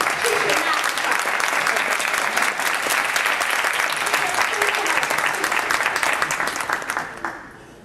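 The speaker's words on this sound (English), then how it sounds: "can we give her a round of applause" An audience breaks into dense, loud applause, many hands clapping together at a steady level for several seconds before the sound tapers off quickly at the end.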